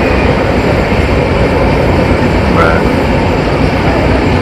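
A Banalata Express passenger train runs near Sirajganj just past the Jamuna Bridge, heard from inside as a loud, continuous rumble and rattle of wheels on track with no break.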